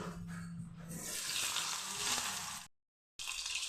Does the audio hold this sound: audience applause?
no